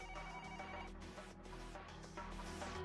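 A telephone rings in a video game with a steady electronic tone. It is faint and continuous and sits under a background music bed.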